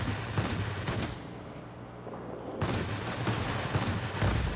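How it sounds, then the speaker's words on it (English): Rapid rattling bursts of a beam attack in a video game, dense crackling fire that briefly thins to a quieter stretch before resuming at full strength. "I think I'll make a beam attack"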